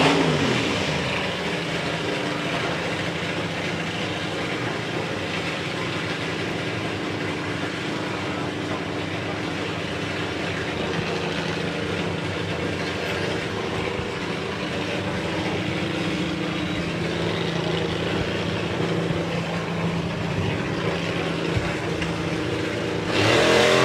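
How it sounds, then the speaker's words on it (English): A drag racing car launches wheels up at a nostalgia drag strip event, a loud, sustained engine roar that fills the whole span, steady and dense from start to finish with no pauses. "Callum with a lovely wheels up launch."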